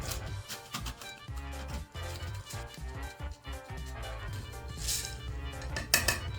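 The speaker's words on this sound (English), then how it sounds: "And now take a muddling tool and really muddle it to get the juices." Ginger slices are muddled in a cocktail shaker, producing quick, irregular knocks, clinks and grinding thuds close up, repeated rapidly and fairly quietly.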